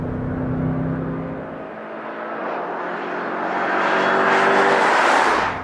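A Jeep Grand Cherokee Trackhawk engine roars steadily on a track, its pitch climbing as it accelerates hard, loud and close, with a rising whine toward the end.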